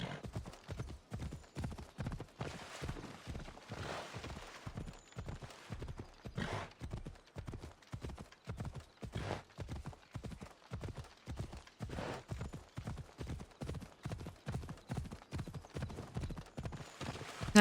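A horse gallops steadily in a video game, hooves pounding in a fast, even clip-clop rhythm that carries on without a break, up close and alone.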